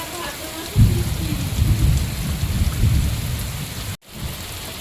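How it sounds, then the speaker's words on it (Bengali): Heavy monsoon downpour drumming steadily and loudly close by, with low rumbling thunder rolling through; the rain cuts out sharply near the end before resuming. "মুষলধারে বৃষ্টি হচ্ছে"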